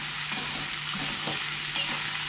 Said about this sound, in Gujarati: અત્યારે ભીંડાને એકલાને ચડવા દઈએ